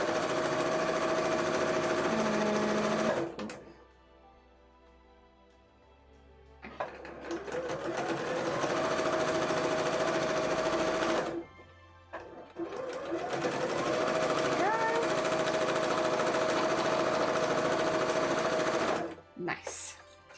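Sewing machine stitching pieces of a Honkai Star Rail cosplay costume, running in long steady whirring bursts up close with short pauses between runs.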